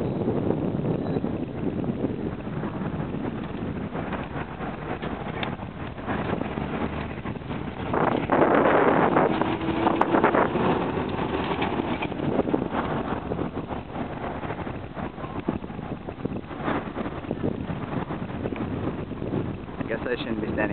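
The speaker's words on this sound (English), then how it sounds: "Getting pretty windy." Strong, steady wind from a sandstorm at Al Asad, Iraq roars and buffets the microphone throughout, swelling briefly midway, with no speech over it.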